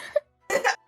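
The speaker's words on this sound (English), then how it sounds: "it's actually a genuine cough" Two sharp, genuine coughs from one person, close and loud, separated by a short silence, with the start of a third at the end.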